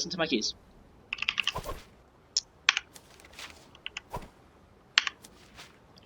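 Computer keys click and clack in scattered bursts and single presses, close up and crisp, with pauses between strokes.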